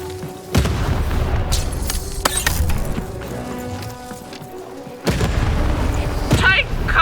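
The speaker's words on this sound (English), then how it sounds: "Shoot the button to fire the cannon." Cannon fire booms in the video game Lost in Random. Two heavy blasts land a few seconds apart over game music and ambience, and a voice speaks.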